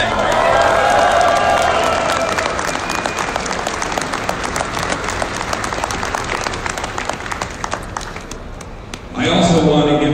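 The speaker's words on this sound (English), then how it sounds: "please give your guys a round of applause for even being here" Loud, dense applause and cheering from a large outdoor crowd at a pro-gun-rights protest rally at Penn State, sustained throughout and briefly rising again near the end.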